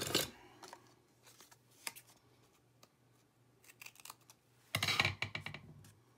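Scissors cut paper for a handmade Christmas mini junk journal, with a crisp burst of snipping and rustling at the start, a few scattered soft clicks, then another loud cluster of snips near the end.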